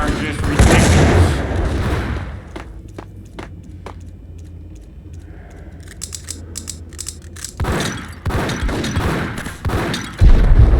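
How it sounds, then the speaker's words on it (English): Grenade blasts and gunfire in the game Max Payne land in loud bursts at the start and again toward the end, with sharp shot cracks and thuds scattered through a quieter middle stretch. "these grenades are just ridiculous"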